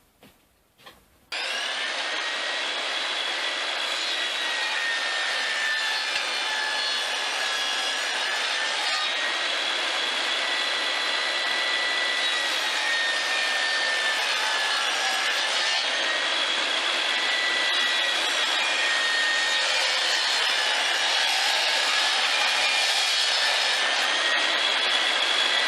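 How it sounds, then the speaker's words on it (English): A power tool makes decorative cuts in a piece of wood for a homemade drinking game, a loud, steady high-pitched whine running continuously for about 24 seconds after a brief knock or two at the start. "I'm going to make a couple decorative cuts on this just to make it stand out a little bit."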